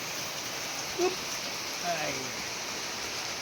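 Heavy rain pours steadily as a dense, continuous hiss, with a person briefly exclaiming over the downpour.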